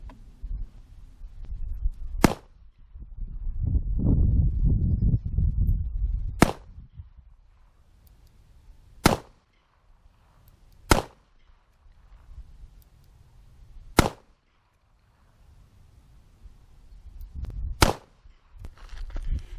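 Kimber K6s revolver firing Black Hills ammunition at an outdoor range from 15 yards: seven sharp, loud, single gunshots spaced a second or more apart, with low rumbling handling noise between some shots.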